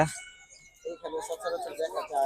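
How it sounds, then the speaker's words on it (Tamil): Chickens clucking and calling at a bird market in Saudi Arabia, a short burst of fowl noise close by, mixed with other birds and market bustle. "இது என்ன கோழின்னு தெரியல"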